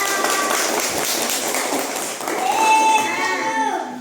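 A classroom of schoolchildren at an elementary school claps hands briefly and somewhat raggedly, with a voice speaking over the clapping near the end.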